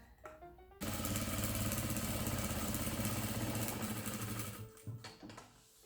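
A domestic sewing machine stitches a diagonal seam through layered chenille cushion fabric, running as a loud, steady mechanical drone for several seconds after a quiet start, then slowing and stopping with a few faint clicks.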